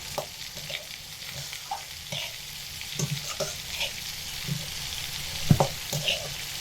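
Lentils for mocha dal frying over medium heat in a pan, with a steady close sizzle and repeated scraping stir strokes, including a sharper clatter near the end and no talking.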